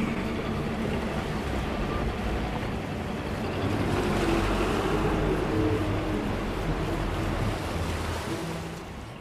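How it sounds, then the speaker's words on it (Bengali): A water bus moves along a canal in Venice, its steady engine rumble and washing water rolling on continuously and fairly loud throughout, with no talk. "এই যে নৌকাটি বিভিন্ন স্টেশনে থামে, কিছু যাত্রী নেমে যায়, আবার অন্যরা উঠে যায়।"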